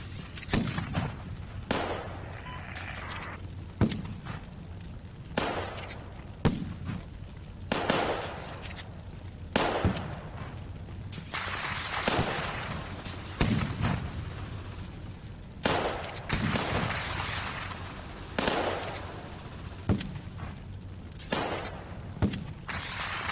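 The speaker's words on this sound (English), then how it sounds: "They're calling the fucking artillery." An artillery barrage pounds away in Steel Beasts Pro, a long run of repeated booming impacts and blasts arriving every second or two, mid-distance and steady, with no talk over it.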